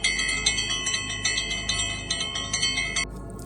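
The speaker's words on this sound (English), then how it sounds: "don't forget to hit the notification bell" A bright bell-like notification chime rings in a quick, steady series of about eight strikes, fairly loud and close, then cuts off abruptly near the end.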